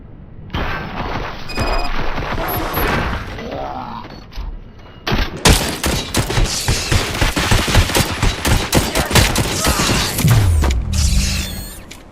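Gunfire in the video game RoboCop: Rogue City: after a few seconds of clanking mechanical sounds, loud, dense bursts of rapid automatic fire and shots ring out continuously up close until the end, with no talking.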